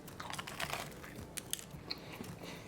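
Crisp, crackly crunching from a bite into a grilled egg and cheese breakfast quesadilla, with several sharp snaps over a few seconds of close, quiet chewing.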